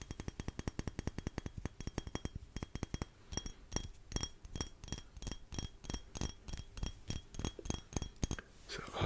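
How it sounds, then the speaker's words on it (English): A glass cologne bottle molded in a muscular male figure clinks again and again in a quick, close, crisp series of taps, with a few brief pauses between runs. "So obviously the bottle is glass."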